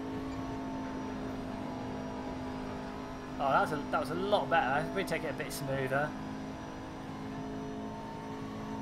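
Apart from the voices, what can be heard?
race car engine whine in video game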